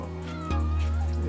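A pet cat meows in a home patio garden, a short close meow rising over a steady background hum.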